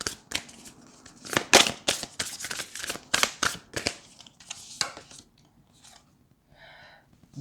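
Tarot cards being shuffled and riffled, a rapid run of crisp papery flicks and slaps in bursts for several seconds, close and fairly loud, tapering to quieter handling with a faint tonal chime near the end.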